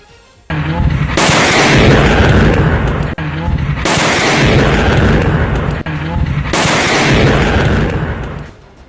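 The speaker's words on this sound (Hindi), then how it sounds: "जमीन से मिसाइल टकराई, वहां जोरदार धमाका हो गया" Three heavy booming missile explosions in sequence, each a loud sustained roar that swells and then cuts off, spaced a few seconds apart.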